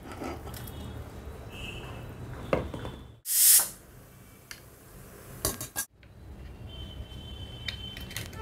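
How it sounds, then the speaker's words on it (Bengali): About 500 grams of chicken is tipped from a metal utensil into a pressure cooker holding onion and garlic, giving close clinks and scrapes of metal, a brief loud wet slosh midway, then more light clatter, with no talking. "চিকেনটা এবার আমি প্রেসার কুকারে ঢেলে দেবো।"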